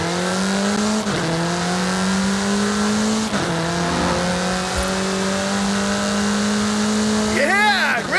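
Sustained car engine in the racing game Forza Horizon 5, a steady loud drone with rising revs and a sharper rev climb near the end, heard alone without talk.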